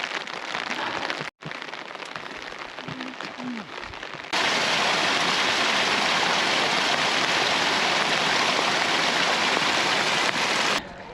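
Continuous heavy rain falls on the Rudranath mountain trek in the Himalayas, a dense unbroken hiss that swells louder partway through and carries on steadily to the end.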